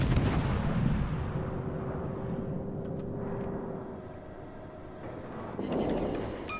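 A warship's full broadside of guns in World of Warships, a heavy low rumbling boom that rolls on for several seconds, loud and close, then swells again near the end.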